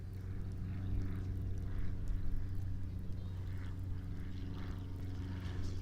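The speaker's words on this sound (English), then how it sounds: "that's a small plane, huh?" Small propeller plane flying over a cricket ground during an under-13 match, a steady low engine drone that swells and fades, with faint field noise and distant voices beneath.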